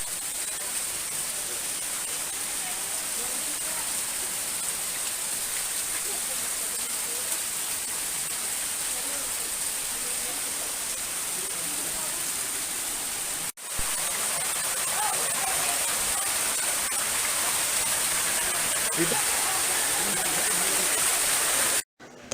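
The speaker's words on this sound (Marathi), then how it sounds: "हे पाणी असंच पडत आहे." Akash Ganga, the sacred waterfall at Tirumala, pours in a steady, continuous roar of falling water close by, with a brief dropout partway through and no clear talk over it.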